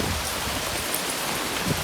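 Heavy rain pours down in a dense, steady hiss outdoors at a rock park on Koh Samui, loud and unbroken throughout.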